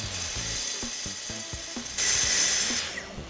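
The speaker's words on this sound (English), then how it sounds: "I set my plunge saw cut depth to 2mm and I begin my first cut." A plunge saw set to a 2 mm depth makes a shallow first cut along a rail in a compact laminate worktop, giving a high whine with rhythmic ratcheting clicks as the blade engages.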